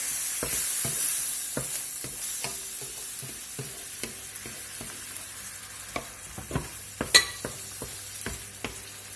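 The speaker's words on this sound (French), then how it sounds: "je vais venir déglacer avec du vin blanc" A pan of chicken and brown mushrooms deglazed with white wine hisses with a steady soft sizzle, broken by irregular scraping and stirring clicks of a utensil against the pan, with no talking.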